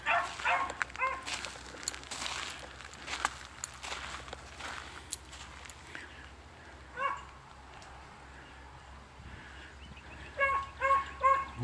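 Hunting dogs bark in woodland during a race, the yelps distant and faint at first, then several quick, closer barks cluster near the end over a steady low rumble and rustling.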